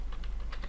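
Typing a URL on a computer keyboard: four quick, close key clicks in an uneven rhythm over a low steady hum.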